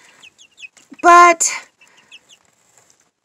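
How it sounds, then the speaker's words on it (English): Black copper chickens cluck softly in short, scattered bursts, with one loud, close squawk in the middle; a person briefly speaks among them. "Hey, sweet chickens."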